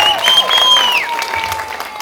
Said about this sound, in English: I think she just deserves a round of applause